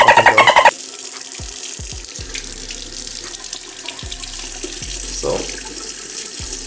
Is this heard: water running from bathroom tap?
yes